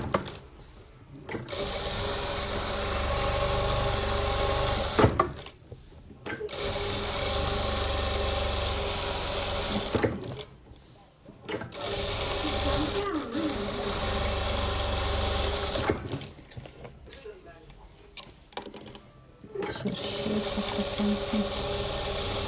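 A sewing machine stitches stacked fabric strips for patchwork quilting, running in steady loud bursts of several seconds each, separated by brief pauses, with no talking over it.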